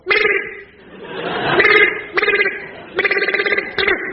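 A comedian imitates a ringing telephone with his voice, giving several short, rhythmic bursts of warbling ring sounds between brief pauses before an audience.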